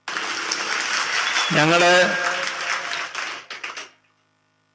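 An audience at a political speech applauds in a dense burst of clapping that runs for several seconds, with a voice speaking over it, before the sound cuts off into silence.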